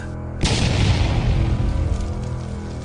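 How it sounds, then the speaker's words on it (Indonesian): A sudden loud boom erupts after a brief quiet moment, then rolls on as a heavy, sustained rumble that slowly fades. "terdengar suara ledakan yang tidak lain berasal dari tempat di mana bis berada"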